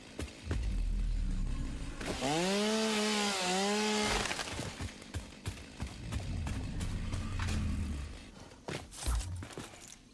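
Chainsaw in the video game Satisfactory revving with a loud, buzzing engine whine that rises and dips in pitch, followed by rough grinding bursts and scattered knocks, close and prominent with no talk over it.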